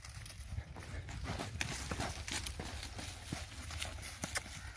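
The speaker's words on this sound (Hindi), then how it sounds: "यह चाल है दोस्तों घोड़ी की।" Hooves clip-clop in a quick, steady rhythm as a mare walks nearby on a hard surface, with light background noise.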